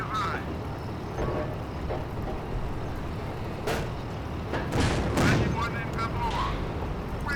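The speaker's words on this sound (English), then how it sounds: "That was a good hit on the tank." Tank cannon shots strike an enemy tank in the Steel Fury combat game, with heavy booming impacts and sharp blasts rising over a constant rumbling battle din, loudest near the middle, under talk.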